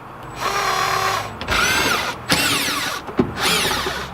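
A power drill backs screws out of the center console of a 1990–2005 Mazda Miata under the shifter area: several loud, close whirring bursts with rising and falling pitch, separated by short pauses and clicks.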